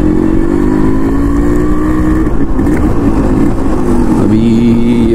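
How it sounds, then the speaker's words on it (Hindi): A Yamaha RX100 two-stroke motorcycle pulls away on a city road, its engine note rising steadily as it accelerates and then shifting pitch mid-run, loud and close amid traffic noise. "ये थोड़ा सा पुल करते फटाफट से गाड़ी को"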